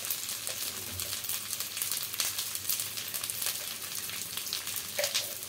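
Spice paste sautéing in a pan for a shrimp curry with taro stolons sizzles steadily and close, with occasional stirring scrapes.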